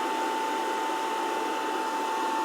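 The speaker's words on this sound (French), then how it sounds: "Le ventilateur tourne." Steady whirring hum of the cooling fan inside a newly unboxed induction hob, running continuously with a thin constant whine riding over a broad airy rush and no talking.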